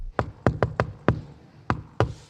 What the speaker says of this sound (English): This iconic door knock is called Shave and a Haircut 2 Bits.